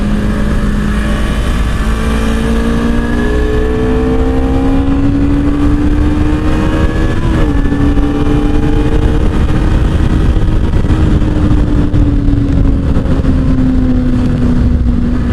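Honda CBR250RR sport bike ridden in sport plus mode, its engine loud and near, winding up through the revs with brief dips at each gear change, then rising again over steady wind and road noise.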